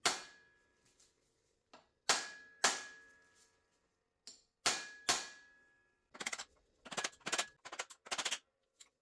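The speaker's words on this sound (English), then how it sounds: "What I do is take a hammer and lightly tap the caps." Hammer lightly tapping the bearing caps of a Jeep driveshaft U-joint: sharp metallic clinks, single and spaced at first, then quicker bursts of several taps, close and ringing.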